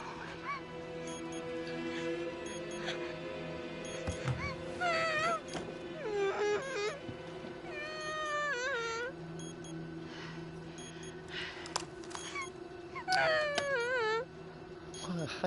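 A cat in the video game Hidden Agenda meows and wails in several drawn-out, rising and falling cries spread across the stretch, heard over a low steady game ambience.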